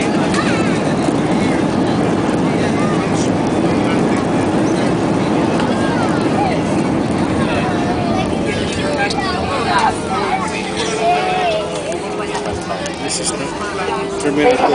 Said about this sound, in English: we have just landed at NAIA International Airport